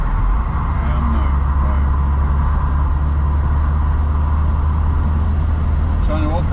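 A convertible car joins the motorway, its engine and wind roar loud and constant close by, with a steady low rumble throughout.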